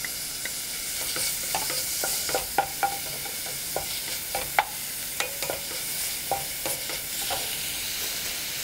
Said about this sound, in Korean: 쇠고기가 어느 정도 익고 나면 표고버섯을 넣도록 하겠습니다.